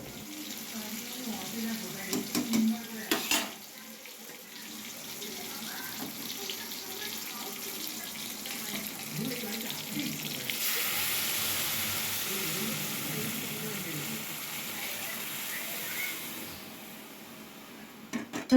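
A kitchen tap runs in a steady, soft hiss that swells for a stretch in the middle, with some clattering early on and faint voices in the background.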